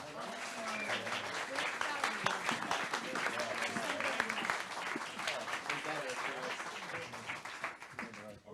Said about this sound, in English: A big round of applause for Scott Dixon.